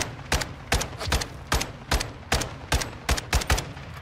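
Light machine gun fire in a first-person shooter game, short sharp bursts repeating roughly every half second, loud and close with no talk over it.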